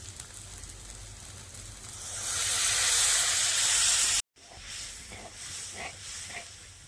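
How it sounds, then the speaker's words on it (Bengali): Water hits hot oil and well-fried spice paste in a pan, swelling into a loud close hiss and sizzle that cuts off abruptly, then continues as a softer bubbling sizzle. "তেল ছেড়ে গেছে, এবারে জল দিয়ে দিচ্ছি"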